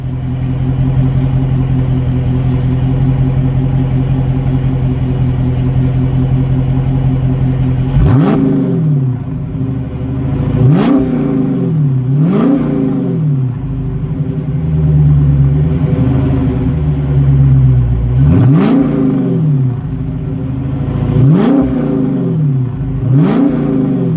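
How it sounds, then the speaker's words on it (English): A 2018 Dodge Charger Scat Pack engine idles, then is revved hard about six times in separate bursts, each rising sharply and dropping back to a deep rumble, loud and close. "I will pull over at some point and do some revs"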